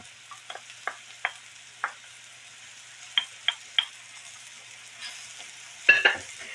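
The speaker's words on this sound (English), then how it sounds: "The mushrooms have started cooking, so I am going to add that 1 clove of garlic." Mushrooms and garlic cooking in a pan: a faint, quiet background with a series of sharp utensil taps and scrapes, irregularly spaced, rising to a louder cluster near the end.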